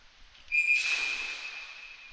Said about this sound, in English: Whistle. Dead play.